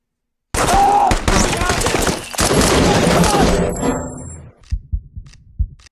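Rapid bursts of gunfire from the film Civil War (2024) rattle loudly in a dense volley, then taper into a few scattered, fainter shots.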